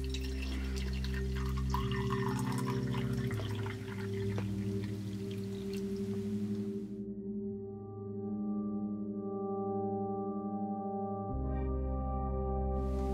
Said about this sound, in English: I'm now going to pour in some hot water to make a cup of tea.